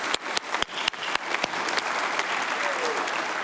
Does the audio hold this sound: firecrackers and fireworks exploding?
no